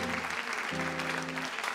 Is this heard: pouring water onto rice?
no